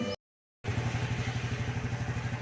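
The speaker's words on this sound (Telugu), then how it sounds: "మోటార్ సౌండ్ అండి అది." A small motor runs after a brief moment of silence, its close, steady chugging coming in even, rhythmic pulses.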